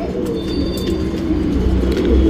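Tournament pigeons cooing close by, soft repeated throaty coos over a low steady background murmur.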